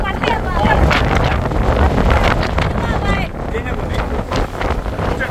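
Strong wind buffets the microphone outdoors on a rooftop with potted bougainvillea plants during a stormy evening, a loud continuous roar with gusts rising and falling throughout.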